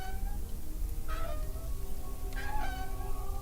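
Cat meowing in the video game Deponia: two short, clear mews about a second apart over a steady background music bed, no talking.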